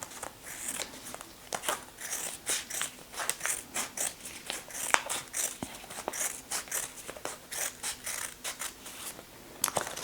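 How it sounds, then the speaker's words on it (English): Scissors snip through kinesio tape strips in a quick series of crisp, close cuts, quiet and dry with short gaps between them. "I'm going to take these 2 strips and cut them into half from there"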